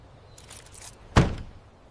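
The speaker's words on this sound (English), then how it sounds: "I locked the front door before I left." A front door swings and shuts with one close, solid thud, preceded by faint rustling and light clicking from the latch or lock, and no talking.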